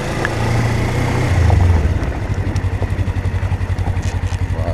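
A Yamaha R3 or Suzuki GSX250R motorcycle engine fires up and settles into a steady, pulsing idle, loud and close with a rhythmic throb.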